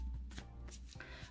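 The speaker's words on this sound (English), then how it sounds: "I'll give these a good shuffle because I haven't used them for a little while." Tarot cards being shuffled by hand, giving a few soft riffling bursts and flutters, close and fairly quiet, with no talking over them.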